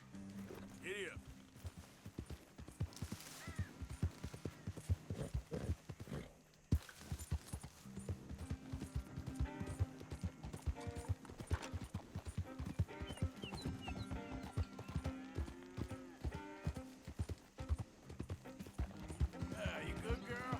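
A ridden horse's hooves clip-clop in a steady, close walking rhythm throughout, with people talking over the hoofbeats.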